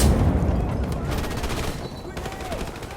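Sustained rapid gunfire and machine gun bursts in the Call of Duty: Modern Warfare Remastered campaign, loud and continuous, with shouted voices over the shooting.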